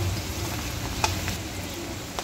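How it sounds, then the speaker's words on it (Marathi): Onion with turmeric and chilli powder sautéing in a pan, a soft constant sizzle with one brief stirring clink, close and without talk. "आपण हे मसाले थोडेसे 2 मिनटं परतून घ्यायचे आहे"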